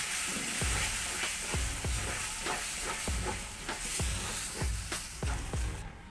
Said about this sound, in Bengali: যে পেস্ট করে রেখেছিলাম সেই পেস্ট দিয়ে দেব আর দেব হাফ কাপ সুজি এবার সমস্ত কিছু ভালো করে মিশিয়ে নেব